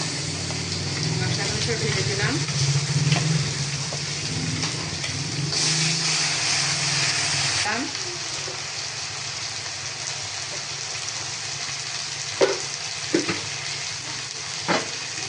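Spices poured over fried onions sizzling in a pan for a home-style chicken curry, a steady close sizzle with a brief louder hiss in the middle and a few sharp knocks near the end, a voice speaking faintly at times.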